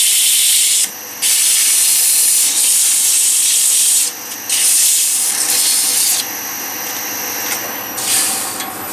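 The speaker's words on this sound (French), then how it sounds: "on va donner un petit coup de ponçage maintenant dessus" A paper pot mould is sanded by hand, a loud, close, continuous abrasive rasping broken by a few short pauses between strokes.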